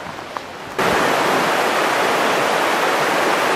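A river rushes along a wet, mossy forest trail in southern interior British Columbia, giving a loud, steady broadband roar that cuts in abruptly after a quieter first second and holds constant without talking.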